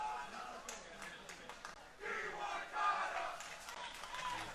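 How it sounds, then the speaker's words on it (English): Crowd at a high school soccer match chanting and cheering in sustained, loud swells, with a brief dip before a stronger surge that carries on steadily to the end. "The crowd is excited."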